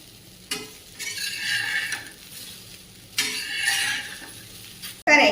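Muthiya cakes made from drumstick leaves and coriander shallow-fry in a pan, with a steady sizzle that swells in waves as they are stirred and flipped, ending in a sharp utensil clatter.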